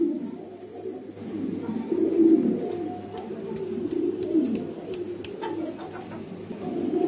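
A breeding pair of Jacobin pigeons sitting on eggs coo softly, with low, rolling, continuous cooing close by and a few faint ticks and rustles in the background.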